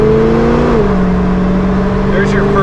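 1971 Chevrolet Camaro accelerating through its gears, engine note climbing then dropping at a shift before pulling steadily again, loud from inside the car.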